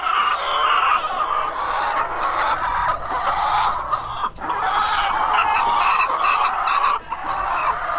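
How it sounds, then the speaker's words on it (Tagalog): Backyard chickens cluck continuously close by, a busy flock murmuring and squawking with brief dips, and a rooster faintly joining in. "mga alaga kong manok"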